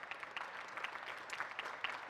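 Scattered, thin applause from a small audience at a SQL Server performance talk, steady light clapping heard alone and at a moderate distance.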